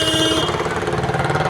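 Motorbikes and other traffic crowding a busy road, a loud continuous engine drone with a pulsing, rattling rhythm and no clear gaps.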